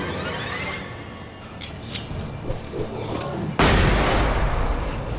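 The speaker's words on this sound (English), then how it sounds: "Guess I'll just flashbang like fucking crazy." A flashbang grenade in Alan Wake Remastered goes off with a sudden loud, wide burst and rushing hiss that lingers, after quieter muffled thumps and ambience.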